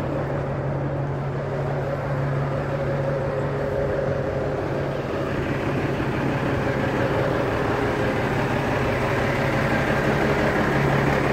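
A truck engine runs steadily while the vehicle backs up, a constant low idling drone with a faint tonal hum and no voices, close and even throughout.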